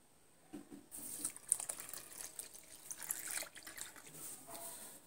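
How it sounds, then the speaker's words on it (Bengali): One cup of milk poured into semolina in a home kitchen, a faint, soft liquid trickle starting after a brief quiet moment and running steadily to the end. "এবার আমি সুজির মধ্যে দিয়ে দিচ্ছি 1 কাপ দুধ"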